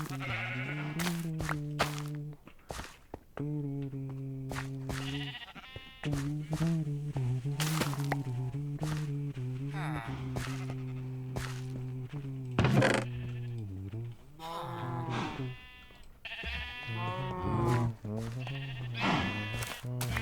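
Sheep in a Minecraft game bleat repeatedly in drawn-out, wavering calls, several in a row with short gaps, alongside a few soft thunks.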